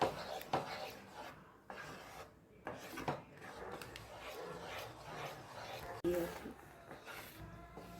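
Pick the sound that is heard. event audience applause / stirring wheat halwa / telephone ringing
stirring wheat halwa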